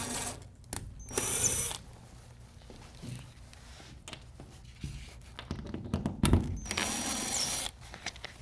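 A screw being driven into a wall to fix a towel rod mount, short bursts of a power driver whirring among handling taps and clicks, close and moderately quiet, with no talk.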